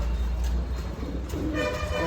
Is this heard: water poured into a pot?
no